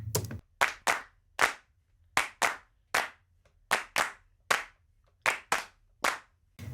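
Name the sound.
hand claps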